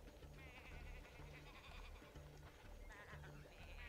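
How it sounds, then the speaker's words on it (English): Sheep bleat in a South Park video game, a few nasal calls repeating over a busy, steady game soundtrack. "Come here, sheepy."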